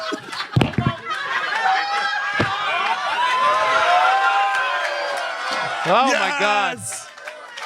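An audience breaks into applause, cheering and whoops, a loud, sustained roar of crowd noise, with a voice briefly exclaiming over it near the end.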